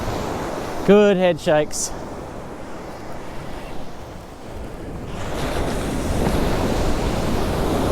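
Ocean surf washes against a rocky shore while a fisherman casts from land as winter swells build, a steady roar with wind buffeting the microphone and someone briefly speaking near the start.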